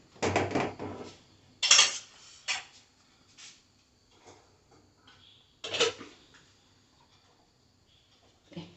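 A cooking pot for a Kerala fish curry is picked up and set on a gas stove, making a few sharp metallic clanks and knocks separated by quiet gaps.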